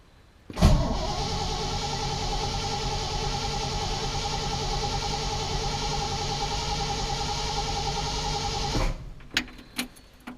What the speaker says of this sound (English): Well, the first thing I'm gonna do is crank it until the oil pressure light goes out.